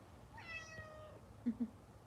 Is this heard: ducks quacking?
no